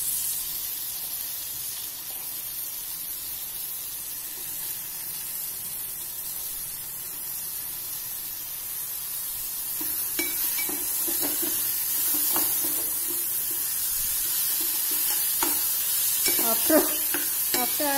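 Onions and tomatoes cooking in a pan for shev bhaji, a steady close sizzle and hiss with stirring scrapes and clatter growing busier in the second half, no talk.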